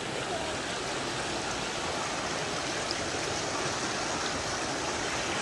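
A river rushes in a continuous, full broadband wash of flowing water, constant and close, with no break across the stretch.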